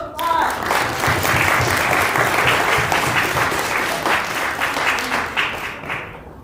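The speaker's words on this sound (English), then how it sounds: "Round of applause." Congregants at a family Shabbat service applaud after a class of fifth and sixth graders tells a Bible story, sustained dense clapping from a room full of people that swells quickly, holds, then tapers off.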